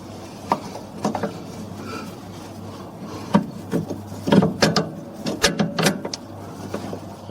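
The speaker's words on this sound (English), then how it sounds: "And we tighten both nuts" Wrench tightening the top and bottom nuts of a rear anti-roll bar link on a Ford Focus, heard as irregular close ratcheting clicks and metallic scraping bursts that cluster into quick runs, loud and free of talk.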